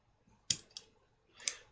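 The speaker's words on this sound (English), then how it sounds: "I like to cut it with a sharp scissors" Sharp scissors snipping cotton wick for a vape RTA, three crisp close snips spaced apart, quiet and alone.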